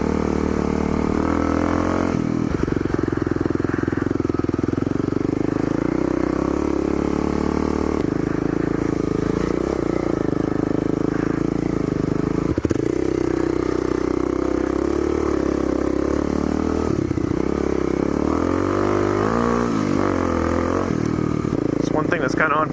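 A dual sport motorcycle rides a rough four-wheeler trail, its engine droning steadily close up with shifting revs as it picks up speed, mixed with rattling clatter and wind, a voice talking over it throughout.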